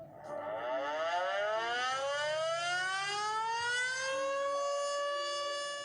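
A Zero drone civil defense siren winds up from a low start into a loud rising wail, its many harmonics climbing steadily and then holding high and sustained until the end.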